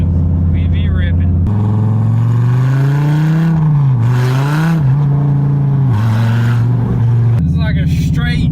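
A 2014 Dodge Viper TA driving, its engine droning loud and close with pitch rising and falling as the throttle changes, while people talk inside the car.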